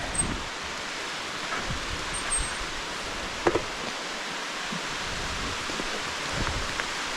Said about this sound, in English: Yep, it's raining.